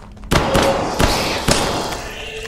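Gunfire in a video game: three loud, sharp shots land about half a second apart, each a sudden thump with a short tail over steady background game noise.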